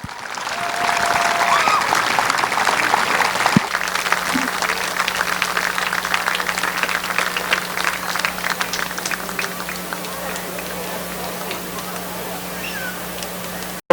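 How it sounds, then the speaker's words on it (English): Crowd at Midvale Speedway applauding the track's Hall of Fame legends, with broad sustained clapping and cheering over about fourteen seconds, a steady hum running underneath and faint voices mixed in. "Ladies and gentlemen, how about a big round of applause?"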